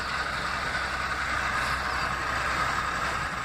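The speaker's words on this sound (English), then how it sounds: "Here comes another truck." A truck driving right beside a moving car on the road, a steady broad roar of engine and tyre noise, loud and close throughout.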